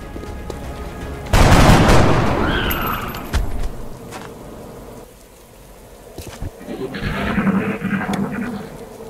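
Gunfire in the video game XCOM: Enemy Unknown, a loud, sudden burst of shots that fades into quieter crackles and game ambience, with a fainter flurry of effects near the end.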